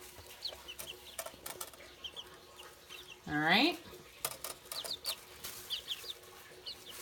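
Young chicks being put to bed chirp in scattered high peeps, with one louder, longer rising call midway; a person speaks briefly nearby.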